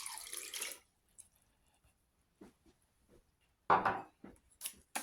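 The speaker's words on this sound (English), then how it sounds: "Now all I'm going to do is add about 1 cup of water to this." About a cup of water splashes briefly into a gumbo pot in short bursts, with a longer pour near the middle, separated by quiet clinks and pauses.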